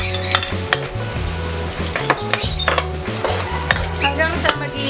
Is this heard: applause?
no